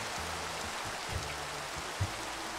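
Rain falls at night in Minecraft as a steady, hissing wash of noise. Low, humming tones come and go beneath it, and a couple of soft thumps stand out.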